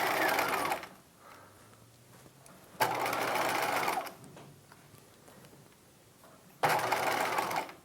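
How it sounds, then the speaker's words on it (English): A sewing machine stitches a circle skirt for a '50s halter dress in three separate bursts of rapid, even whirring, with quiet pauses between each run. "So I'm going to sew until I get to where the flap basting ends."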